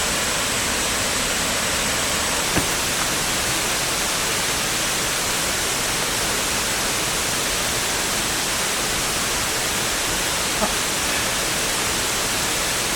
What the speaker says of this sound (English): God, that's a long waterfall.